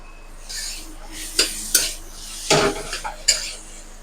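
A utensil stirs grated potato with spices in a pan, making a series of close scraping and clattering strokes against the metal, each a short burst over a faint sizzle.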